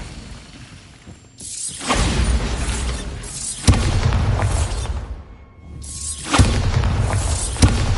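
A Bombarda spell detonating in the Hogwarts Legacy video game: three loud booming blasts with crackling, shattering debris, each swelling and lingering before the next.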